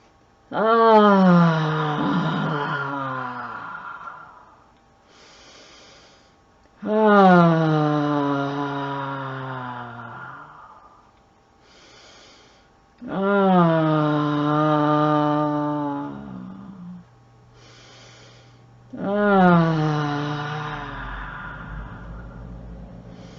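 A single voice sings four long sustained vowel tones, each swelling then fading, separated by short pauses with soft breaths between.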